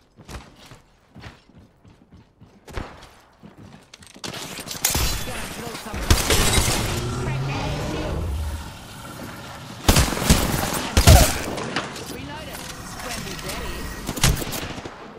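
Gunfire in a shooter video game: rapid bursts of shots and explosive blasts, loud and dense in the second half, with a player talking over the action.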